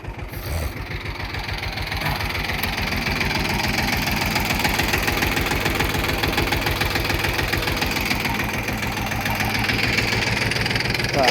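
A Kentavr 244SX tractor with a KM385VT-72S engine pulling a disc harrow through clay soil, its engine knocking in a loud, steady, close rhythmic chug that holds on throughout.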